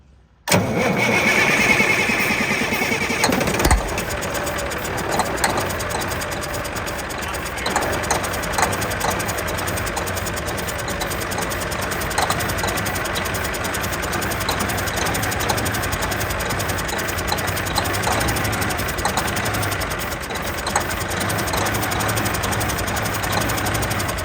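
An old diesel junkyard truck engine cranks over and catches, then runs in a rough, loud, knocking idle that carries on steadily nearby for about twenty seconds, with no talking.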